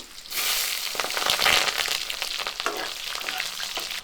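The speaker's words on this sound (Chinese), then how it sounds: "炒料的话，火力不用大了，炒小火" Chili bean paste, ginger and garlic stir-fried in oil over low heat, giving a continuous crackling sizzle with scraping bursts from the spatula, close and with no voices.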